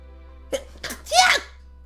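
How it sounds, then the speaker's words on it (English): A single close sneeze: a couple of quick sharp inhales building into one loud burst, then quiet. "Hold on, I gotta sneeze."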